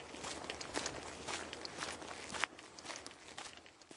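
Footsteps walking quickly, a brisk run of crunchy steps on a path in a steady rhythm, close and fairly loud with no voices.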